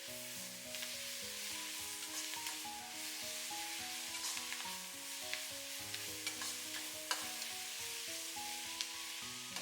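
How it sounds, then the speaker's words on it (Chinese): Shredded cabbage stir-fried in a wok gives a steady, close sizzle with repeated scraping strokes of the spatula, over a soft, continuous musical background. "大概煸炒个1分钟左右，看到包菜明显变软就可以调味啦"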